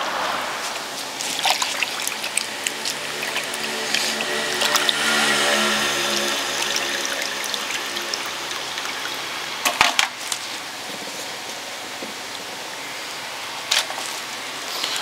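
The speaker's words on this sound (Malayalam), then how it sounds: "നമുക്ക് നല്ല വെള്ളത്തിൽ കഴുകി മീൻ മാറ്റി വെക്കാം" Stingray fish is washed under running tap water, a steady close trickle and splash with occasional clatters of handling, and no one talks.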